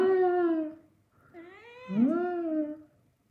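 A young kitten, a British Shorthair mix, gives two drawn-out meows, the second rising and wavering, close and clear in a quiet room.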